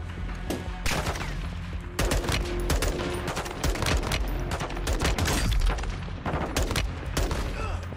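Rapid bursts of M4 rifle fire in the Call of Duty Modern Warfare 2 (2022) campaign, loud and dense, with automatic volleys continuing almost nonstop over a heavy battle din.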